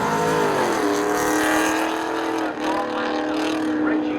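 Spectator drag race cars, including a tan 1999-numbered Camaro, accelerating hard at a speedway, a loud continuous engine roar rising in pitch with several cars layered together.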